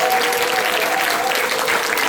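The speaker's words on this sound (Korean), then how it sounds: "박수가 너무 뜨거워서 감사합니다" A lecture audience at a mission conference applauds warmly after a professor's talk, dense and loud clapping that holds steady and close throughout.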